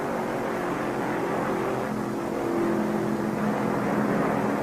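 Stock car engines roaring at the 1969 Firecracker 400 on a hot afternoon, a continuous droning rumble with a faint rising and falling pitch as cars pass, steady and fairly loud, with no talk over it.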